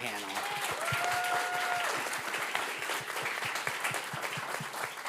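A crowd applauds a Supreme Court term preview panel, dense clapping running throughout, with a brief voice and a short tonal sound near the start layered over it.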